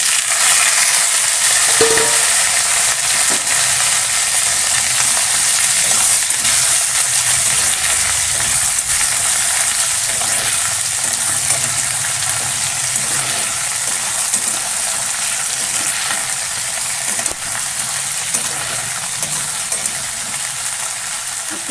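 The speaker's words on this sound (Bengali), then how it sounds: "পাঁচফোড়নটা ভাজা হলে আনাজটা তুলে দেবো" Vegetables with panch phoron frying in hot oil, a continuous hissing sizzle held steady and loud, with occasional clinks and stirring scrapes and no talking.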